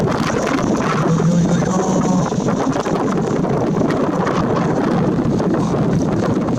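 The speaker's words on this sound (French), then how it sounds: "s'il y a beaucoup de vent dehors" Strong wind gusts outside on a snowy winter night in Sallanches, buffeting the microphone with a loud, continuous roar that never lets up.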